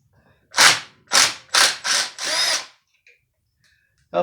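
An impact wrench hammers at a nut on a Husqvarna 350 chainsaw in five close, loud bursts, the last one longest, followed by quiet and a faint start of another burst.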